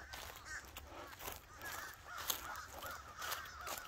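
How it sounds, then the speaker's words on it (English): Many crows cawing at once over a Florida nature preserve trail, with dense, overlapping harsh calls coming from a distance in a continuous faint chorus and no talk. "they're flying around all at once"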